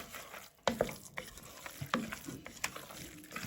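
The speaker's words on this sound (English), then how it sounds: "And give it a mix." Risotto stirred in a pan with a spoon, a run of soft scraping and wet sloshing strokes with faint sizzling in between, close and fairly quiet.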